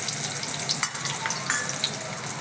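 Green onions frying in a pan until lightly browned make a continuous moderate sizzle and hiss, with small crackles and stirring touches over the short stretch.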